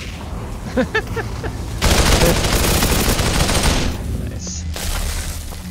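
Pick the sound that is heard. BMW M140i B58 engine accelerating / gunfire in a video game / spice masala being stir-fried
gunfire in a video game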